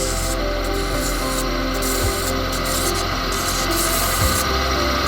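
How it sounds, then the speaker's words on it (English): Sandpaper rubs against a wooden honey dipper spinning on a lathe at about 1500 RPM, a continuous close rasping hiss over the motor's steady hum, with repeated brief brighter scratchy passes. "I'll get this about 1500 RPM to sand."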